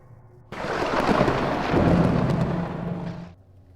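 A single rolling thunderclap, used as a sound effect in a Marathi horror story, bursts in abruptly, rumbles loudly and deeply for about three seconds, then cuts off.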